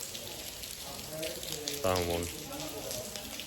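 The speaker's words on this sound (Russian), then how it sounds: "потому что дождь совсем усилился" Heavy rain pours at a tomb complex in Hue, Vietnam, as a constant hiss with a sizzling texture. A person speaks briefly over it partway through.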